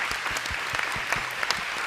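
A crowd claps steadily at a luncheon in Noblesville, a dense patter of many hands filling the room without pause.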